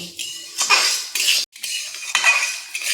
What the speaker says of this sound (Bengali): তবে আরও 1 মিনিটের মতন মিডিয়াম আছে চালটাকে ভেজে নেব